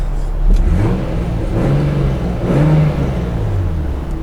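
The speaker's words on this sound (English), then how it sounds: "The engine response feels good. Let me just show you that." A 1996 Toyota Supra SZ-R engine with stock exhaust revs up and down several times in steady pulses, close and loud, with no talking.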